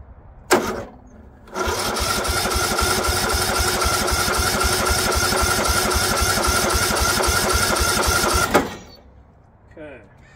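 An abandoned 2004 Murray 12.5 HP lawn tractor with a 38-inch deck cranks briefly, then fires into a loud, fast-chugging run for about seven seconds before shutting off; a voice speaks faintly before and after.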